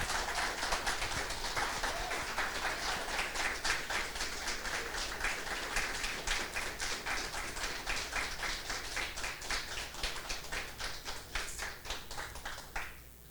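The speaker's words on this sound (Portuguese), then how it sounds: "você pode aplaudir de novo?" A church congregation applauds in a sustained burst of rhythmic hand clapping lasting over ten seconds. The clapping is moderately distant and gradually thins out toward the end.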